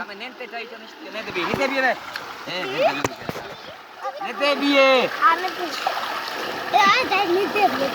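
Fresh water gushing from a farm tubewell while children bathe and splash in it, steady flowing water with splashes and lively kids' voices and shouting throughout.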